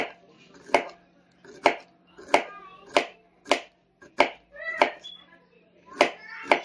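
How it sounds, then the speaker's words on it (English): Knife chopping zucchini and plantain thinly on a cutting board for dehydrated chips: about nine sharp, evenly spaced chops, close and distinct, with a low steady hum underneath. "So I'm going to start chopping this up"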